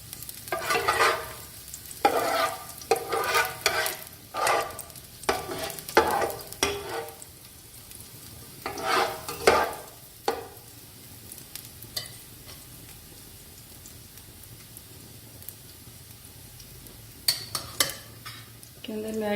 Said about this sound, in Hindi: इसे मैं थोड़ा सा सौते करूँगी